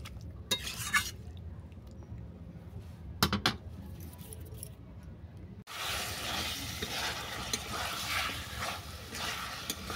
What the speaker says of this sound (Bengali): এরপর এই চিকেন আর কাঁঠাল দানা সহ ভালো করে আমি কষিয়ে নিচ্ছি।